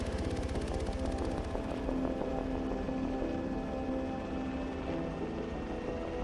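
Helicopter lifting off and departing a landing zone in the Arma 3 military game, a steady loud rotor and engine drone with a sustained tonal hum throughout, no talking.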